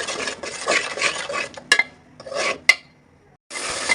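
Ginger, cumin and garlic pastes with salt get fried down in a pan, heard as bursts of close scraping and stirring with brief metallic clinks between quieter pauses; no one talks.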